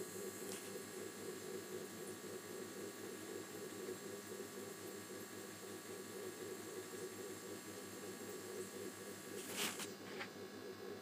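A Canon G-series inkjet printer runs a nozzle check print, giving a steady mechanical hum with a faint rhythmic pulsing of the moving print head, quiet and continuous, with a short clatter near the end.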